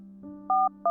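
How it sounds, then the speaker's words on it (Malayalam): Telephone keypad being dialed: a low steady tone, then two short bright dual-tone beeps in quick succession, clean and close with no voices. "ഞാൻ ഡയൽ ചെയ്ത് നോക്കാം."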